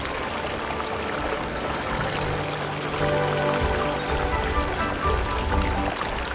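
Water pours and streams steadily at Erawan waterfall in Thailand, a broad, continuous rushing wash that stays even and fairly close, with no voices over it.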